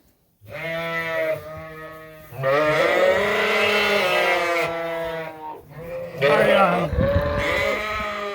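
Several sheep bleat loudly and close by in a lambing barn, long wavering calls overlapping in three or four bursts with barely a pause between them.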